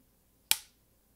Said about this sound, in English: So I'm going to stop talking for a second, give it a clap,